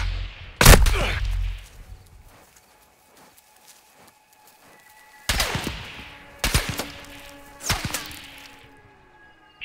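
Sniper rifle shots in the video game Call of Duty Modern Warfare 2: one loud, sharp crack near the start, then three more sharp reports later on, each with a short ringing tail over quiet ambient game sound.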